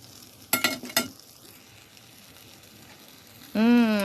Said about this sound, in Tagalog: Naluto na, guys, ang saging kong prito.